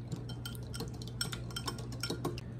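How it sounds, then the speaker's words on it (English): Egg being whisked in a bowl with seasoning for a spicy crispy shrimp batter, giving quick, steady clinking and scraping of a utensil against the bowl, close and fairly quiet with no talking. "Go ahead and mix our egg."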